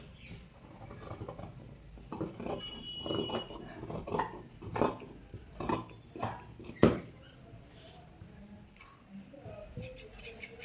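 Scissors cut through blouse cloth, a series of crisp snipping crunches spaced irregularly, close and fairly quiet, with a louder snip partway through and someone talking faintly at times.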